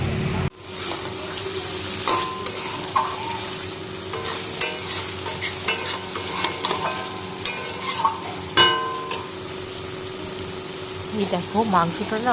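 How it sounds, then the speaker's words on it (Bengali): Mutton curry with potatoes sizzles and fries in a pan while a spoon stirs and scrapes in irregular bursts; a voice is briefly heard over the continuous frying. "অনেকক্ষণ ধরে কষাচ্ছি মানে ঢেকে ঢেকে কষাতে কষাতে এইরকম মানে দেখতে হয়েছে"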